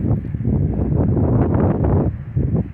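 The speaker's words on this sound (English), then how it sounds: "The wind right here isn't too bad, but I'm afraid it's going to get strong again." Wind buffets a climber on an exposed mountain traverse, loud gusty rumbling against the microphone that surges and dips in uneven pulses.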